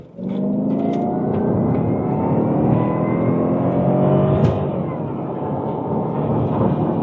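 A Jaguar XJR engine in manual mode accelerating hard from second gear, a loud, close, sustained rumbling roar that holds steady for several seconds with a brief swell midway, then eases slightly.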